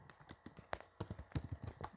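Quiet, quick keystrokes tap on a computer keyboard in an irregular run of light clicks, close and alone.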